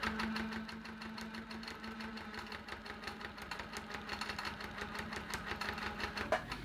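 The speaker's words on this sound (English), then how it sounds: "So here we go, stitching around that first shape." A Handi Quilter machine stitches black thread around a shape on a quilt sandwiched with two layers of batting, giving a steady, fast mechanical whir with a constant low hum and rapid regular needle pulses, close and continuous with no voices.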